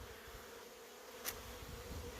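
Soft, steady honeybee buzzing hums through a quiet background, with one brief brighter click partway through.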